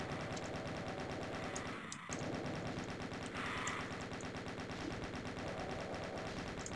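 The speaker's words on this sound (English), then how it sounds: "I'm wasting too many bullets on you guys." Rapid automatic gunfire from shooting enemies in Doom II, a steady dense stream of repeated shots that runs nearly the whole time with only a brief gap near the middle, with no voices.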